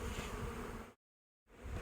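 Honey bees buzz steadily around a farm beehive in Newfoundland, a dense close swarm hum that cuts to silence partway through and then resumes.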